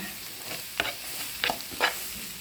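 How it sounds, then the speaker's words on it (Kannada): Ginger frying in a pan gives a low steady sizzle while a spoon stirs, scraping the pan in three short strokes, close and fairly quiet. "ಈಗ ಫ್ರೈ ಆಗ್ತಾ ಬಂತು ಶುಂಠಿ ಅನ್ನು ಹಾಕ್ತಾ ಹಾಕ್ತಾಯಿದ್ದೀನಿ ಅದಕ್ಕೆ ನಾನು ಇದನ್ನು ಮಿಕ್ಸ್ ಮಾಡಬೇಕು ಸ್ವಲ್ಪ"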